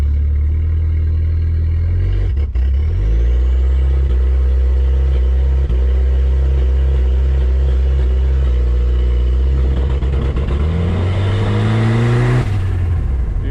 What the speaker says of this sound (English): This is the first time we'll ever use launch control for actually launching.